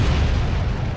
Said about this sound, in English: there was a massive explosion